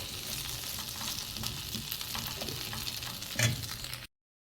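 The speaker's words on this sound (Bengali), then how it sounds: "মরিচটা দিয়ে ভালো করে ভেজে নিয়ে পরে এটা আমি পাতায় বেসতে ভেজে তুলব" Chili frying with boiled jackfruit seeds in a pan, a continuous close crackling sizzle with a brief louder stir near the end before it cuts off.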